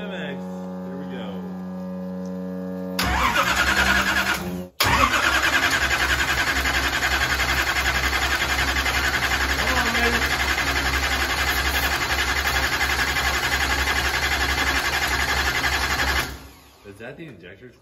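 A 9.3L SMX big block engine fires up for the first time, roaring steadily and loud for over ten seconds with a rapid clicking texture before cutting off; a steady hum precedes it and voices are heard around it.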